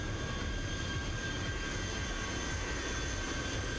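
Steady broadband roar of a PMD aircraft rolling on the runway at Nadi Airport in Microsoft Flight Simulator during a touch-and-go, with constant engine drone and faint high tonal whines, no voices.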